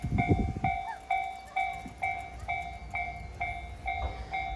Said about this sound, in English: just watch trains go by